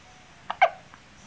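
A newborn baby hiccups after a feeding: one soft hiccup followed by a sharper, louder one and a faint third, close by in a quiet room.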